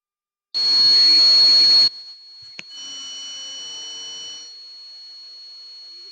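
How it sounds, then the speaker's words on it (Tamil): A homemade mini fire alarm lets out a shrill, high-pitched buzz, loud at first, then a quieter steady tone carries on to the end. "ஃபயர் அலாரம் இப்போ நம்மளுக்கு கரெக்டாக ஒர்க் ஆகுது."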